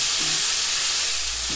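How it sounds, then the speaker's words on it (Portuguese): Ground beef with oregano and bay leaves browning in a pan, a loud, continuous close-up sizzle and hiss with faint stirring underneath. "E agora vamos refogar essa carne sem colocar o sal"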